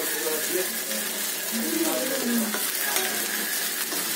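Rice is being stirred into a sizzling vegetable fry, a steady crackle of hot oil running throughout with soft scraping of a spoon through the grains.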